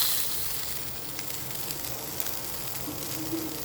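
Oil sizzles and hisses on hot charcoal in a pot, made to produce smoke for tandoori chicken, a steady close crackling hiss heard alone.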